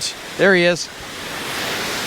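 An outdoor waterfall roars as a broad, steady rush of water that swells after a short spoken phrase and then carries on loud and continuous.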